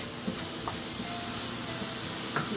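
Half a grated onion frying in a pan gives off a faint, steady sizzle and hiss, with a few soft stirring knocks and no talking.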